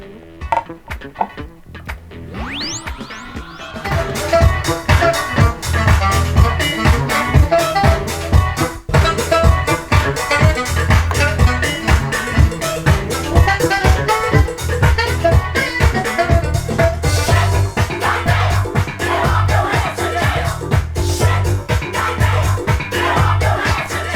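A funky dance track with a driving four-on-the-floor beat, thick bassline and busy percussion, playing loudly and continuously after a sparse, swirling intro.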